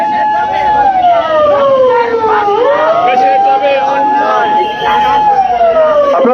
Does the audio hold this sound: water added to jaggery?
no